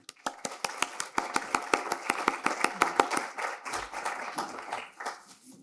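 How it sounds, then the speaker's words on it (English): An audience at a social work leadership speaker series claps for the event team and a family, a sparse run of distinct, evenly spaced handclaps that thins out and fades after a few seconds. "Let's give the CLOE team and the Fernaro family a round of applause"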